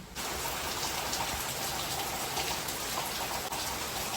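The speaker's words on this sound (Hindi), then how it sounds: "बाहर जो है ना बहुत ही तेजी से बारिश चालू है" Heavy rain pours steadily outside a house in Goa on a dark evening, a dense, loud and unbroken wash of falling water with no voices.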